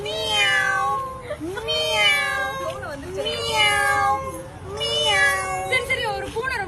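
A person imitates a happy cat with four drawn-out, sing-song meows in a steady rhythm, close and clear, with a soft murmur of background noise.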